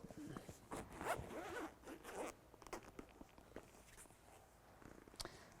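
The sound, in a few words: zipper of Ferrari 488 Spider car cover being unzipped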